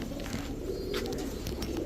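Oman Teddy pigeons cooing steadily at close range, a soft continuous murmur of several birds kept in a carton, with no talk over it.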